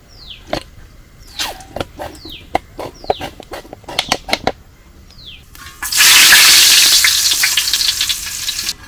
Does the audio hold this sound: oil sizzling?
yes